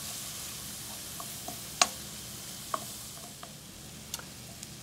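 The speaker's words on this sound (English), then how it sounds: "Now we want to cook these just until they get a little bit soft" Shallots or onions salted in a pan give off a soft, steady sizzle. Small clicks and taps of stirring break through it now and then, with no talking.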